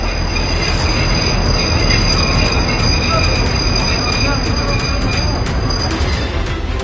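A Bombay-bound train running on rails, a loud, continuous rumble with high, sustained wheel squeal and a thin metallic whine riding over the steady rolling clatter.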